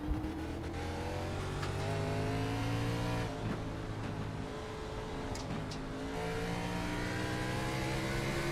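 Race car engine at Road America in a sim racing game, sustained and loud, revving up and down through gear changes with a brief lift around a turn, no talking.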